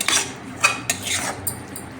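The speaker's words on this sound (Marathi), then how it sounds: "हे छान जोपर्यंत वेळ मेल्ट होत नाही तोपर्यंत हे छान मी असं परतून घेते आणि हलवत राहायचं" Modak filling is stirred and sautéed in a pan over low heat, with several close metallic scrapes and clinks of a utensil against the pan coming in short, uneven strokes and no talking.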